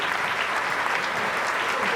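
A panel-discussion audience gives a short burst of steady, dense applause, loud and filling the room, with some voices blending into the clapping.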